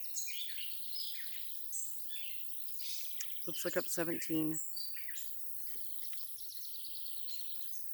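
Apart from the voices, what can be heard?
cardinal calling from a tree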